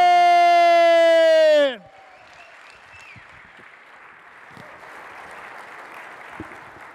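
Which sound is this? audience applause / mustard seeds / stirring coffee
audience applause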